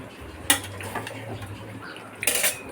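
Metal utensil clinking and scraping against a pot while chicken biryani gravy is stirred on a gas stove, with two sharper clanks standing out over a low steady hum.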